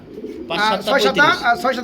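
Pigeons for sale at a bird market give a short burst of close, throaty cooing, a few warbling calls following one another over a quiet background.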